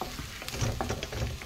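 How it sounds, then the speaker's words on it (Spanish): Steady close-up sizzling and crackling of onion and garlic frying in hot oil, with occasional stirring sounds. "aquí sobre este aceitito, pues ya ponemos la cebolla y el ajo."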